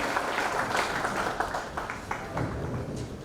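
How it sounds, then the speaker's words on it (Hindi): Audience applause at a Miss India event honouring the winner's father, a steady patter of many hands clapping in a hall, moderately close, with a few sharper claps standing out. "एक बार जोरदार तालियां।"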